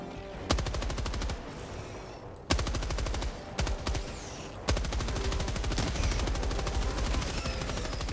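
Rapid machine gun fire in the video game Helldivers 2, long sustained bursts of evenly spaced shots with brief pauses between strings, loud and close, no voices over it.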